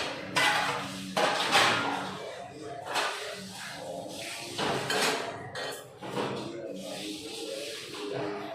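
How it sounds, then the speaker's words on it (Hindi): Kitchen utensils and dishes being set into a dish stand at home, with scattered clinks and clatters of metal and crockery at an uneven pace, fairly quiet and close. "तो थोड़े से बर्तन भी रह गए थे तो वो भी हमने स्टैंड में लगा दिए।"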